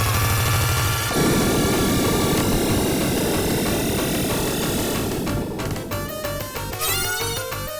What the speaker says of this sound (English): The engines of this machine make Sparkster fly away